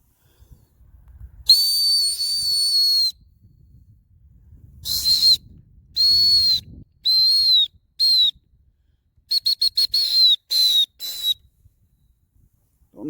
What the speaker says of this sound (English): See how loud the whistle is outside.